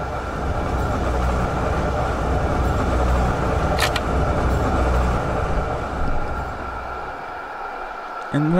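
A tram rolls through Düsseldorf in the LOTUS Simulator game with a continuous heavy rumble and rattle of wheels on track, a brief high screech partway through, then the noise eases and shifts near the end.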